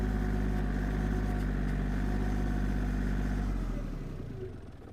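A John Deere 790 tractor engine runs hard and steady as it raises its front end with the bucket in soft mud and snow, then eases off toward the end, close and loud with no voices.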